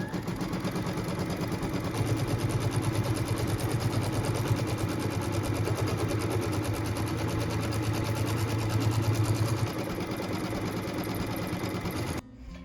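Quilting machine tacking down batting makes a rapid, steady mechanical stitching chatter with a low motor hum, running continuously and close for about twelve seconds before stopping abruptly.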